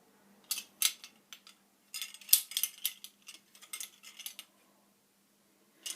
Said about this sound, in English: Let me get my teaspoons.